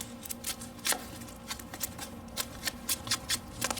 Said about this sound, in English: Let's go outside and let's cut some stuff.